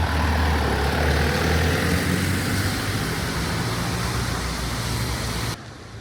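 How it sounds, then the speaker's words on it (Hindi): A tractor engine idling on a rainy street in Lucerne, Switzerland, a steady loud low rumble with a broad washing noise that cuts off abruptly near the end. "ट्रैक्टर भी दिखा दिया।"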